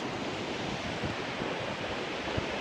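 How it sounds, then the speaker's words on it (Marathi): The Krishna river rushes fast over rocks near a historic Shiva temple in Limb village, Satara district, making a dense, continuous broadband roar with a wind-like wash throughout. It sits close and loud, with no talking. "पाणी खूप खळखळ वाहतंय"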